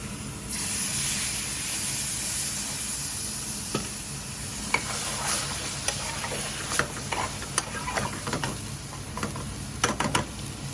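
Chicken tikka masala with base gravy cooking in a sizzling pan in a takeaway kitchen, a constant hiss broken by scattered sharp stirring clicks and taps, close and without talk.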